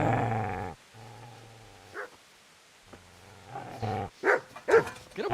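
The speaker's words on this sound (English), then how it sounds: "Get away, you mutt!" A dog in Kingdom Come: Deliverance growls low and long, then after a short pause breaks into several sharp, snappy barks and yips, close and fairly loud.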